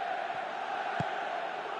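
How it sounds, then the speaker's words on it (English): A football stadium crowd roars in a steady, distant wash of massed voices urging a player to shoot, with one faint low thump partway through. "Crowd calling for him to shoot."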